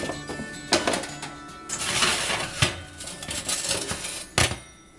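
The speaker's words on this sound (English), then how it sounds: "let's take out the baking rack so there's room to work in the oven" A metal baking rack slides out of an electric oven, giving scraping rattles and several sharp clanks of metal on metal, fairly close and alone with no talking.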